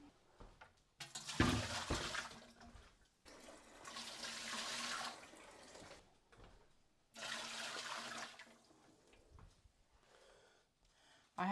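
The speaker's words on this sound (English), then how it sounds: "So let's put the water in." Water poured or run into a pressure canner in a home kitchen, coming in three splashy bursts separated by short pauses, fairly faint and close, with no talking.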